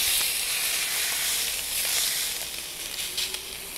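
Skirt steak fat sizzling hard on a grill with butter in a Kamado Joe, a steady loud hiss with faint crackles throughout, no talk.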